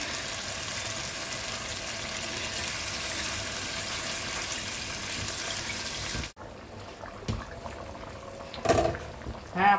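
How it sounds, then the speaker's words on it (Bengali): Broth pours into a pan of chicken curry, a steady loud liquid rush that stops abruptly, followed by quieter sizzling and a few clinks. "এবার আমি ঝোল দিয়ে দিচ্ছি।"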